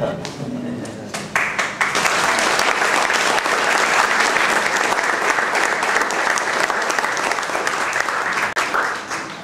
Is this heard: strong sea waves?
no